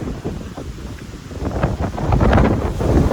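Chilly wind on the Appalachian Trail in central Virginia, heavy gusts buffeting the microphone with a loud low rumble that builds stronger toward the end, no talk.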